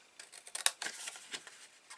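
Large scissors cut through paper or card while a cigarette-box craft project is being made, with a few quiet, separate snips and crisp slicing sounds close by.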